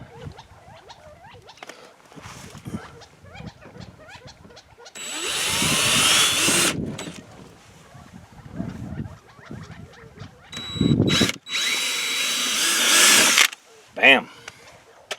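Power drill boring holes to mount Kemimoto fender flares on a KRX side-by-side, two loud sustained whirring bursts close by, separated by quieter handling noises and clicks.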